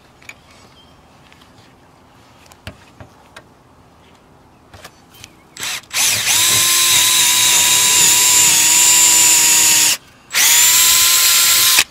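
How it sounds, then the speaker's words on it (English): A power drill bores a hole through a roof into the wood beneath for a solar panel mount, starting after a few quiet handling clicks with a loud, steady whine that cuts out briefly and then resumes. "Drill my hole."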